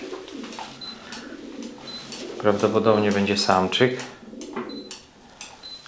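A pigeon coos softly nearby, a throaty rolling call in the middle, while someone speaks over it with faint clicks around.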